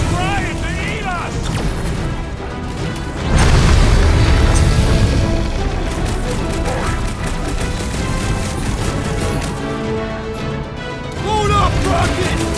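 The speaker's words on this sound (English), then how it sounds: "Incoming fire! Literally! Fireball!" Fireball explosions from the dragon Fin Fang Foom in the Guardians of the Galaxy video game, heavy booming blasts and crashes that swell and roll, with characters shouting over the chaos and a game score underneath.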